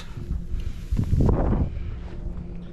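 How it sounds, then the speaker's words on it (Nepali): Cold wind blows at a riverside fishing spot, a low rumbling buffet against the microphone that swells to a stronger gust in the middle and then eases, with no voices. "चिसो हावा चलिरहेको छ"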